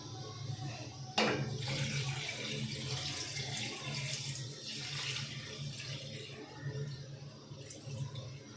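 Water is poured into a pot of chicken curry, a close, continuous gushing and splashing that begins with a sharp onset and runs on steadily under faint background noise.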